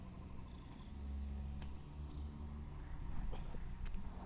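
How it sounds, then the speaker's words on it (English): A cat purrs close by in a steady low rumbling drone, quiet and continuous, with faint rustles and small clicks over it. "Listen to that purr."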